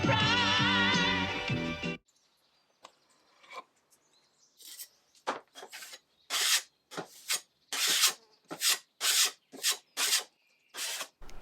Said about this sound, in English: I asked Rod to sand it